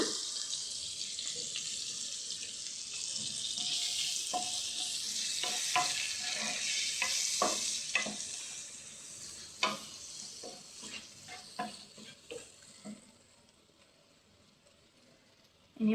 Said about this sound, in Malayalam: ഒന്ന് ഇളക്കി കൊടുക്കാം. സവാള അരിഞ്ഞതാണ്. സവാളയും പച്ചമുളകുമാണ്.